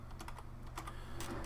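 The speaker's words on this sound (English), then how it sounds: "I'm just going to type in equals 0" Quick, light keystrokes on a computer keyboard, a short run of irregular clicks close by, with no talking.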